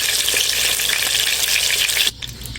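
Katla fish pieces frying in hot oil, a loud, bright, crackling sizzle that runs steadily, then drops abruptly near the end to a quieter hiss, as if pulled off the heat.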